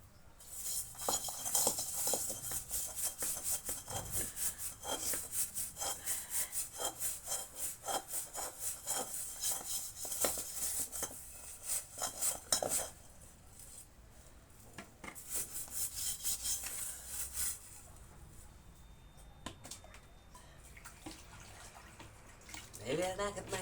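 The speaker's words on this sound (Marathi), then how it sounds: "आता कढई घेतो घासून." A dirty kadhai (wok) being scrubbed clean by hand, with steady rhythmic rasping strokes that run continuously, pause briefly, then resume, fairly close and moderately loud with no talk over it.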